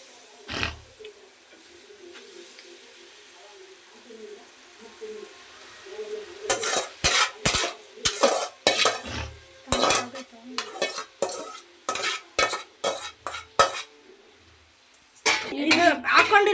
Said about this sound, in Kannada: ಇದಕ್ಕೆ ನಾನು ನೂಡಲ್ಸ್ನ ಹಾಕ್ಕೊತಾ ಇದ್ದೀನಿ